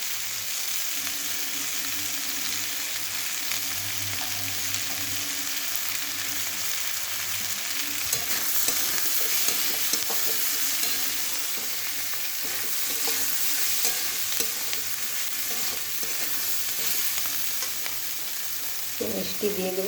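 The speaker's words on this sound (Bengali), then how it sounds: "সবজিটা প্রায় ভাজা হয়ে এসছে, তো আমি এখন এখানে একটু হলুদ দিয়ে দেবো।" Vegetables for chire polao, a flattened rice dish, fry in a pan while being stirred, with a steady, close sizzle and faint scraping throughout.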